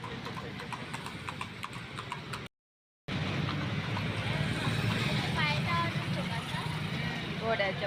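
Horse hooves clip-clop on a road near a bus stop in Pune, an even run of hard knocks over steady traffic and engine rumble, with a brief gap of silence midway.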